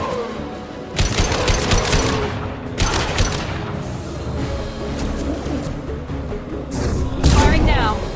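Gunfire in Mass Effect 2, with bursts of rapid shots that come and go in several loud volleys over a busy background, and voices speaking between them.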